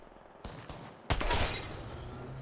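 Video game gunfire: two quick sharp shots followed by a louder burst, close and punchy, with no talk over them.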